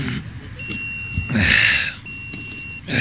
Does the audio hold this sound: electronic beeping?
yes